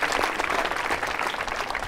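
Students at a women's engineering college quiz show applaud warmly, a dense, even wash of many clapping hands sustained throughout without speech.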